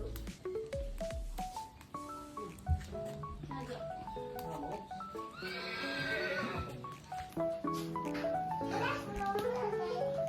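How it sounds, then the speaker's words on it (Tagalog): A horse that has broken loose whinnies and neighs, with hooves clip-clopping and children's voices chattering around it amid busy outdoor background sound. "Nakawala yung isang kabayo mga kababayan."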